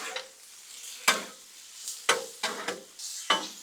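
Ribeye cheesesteak meat is tossed and scraped across a hot Blackstone griddle, with sharp spatula scrapes about once a second over a steady close sizzle and no voices.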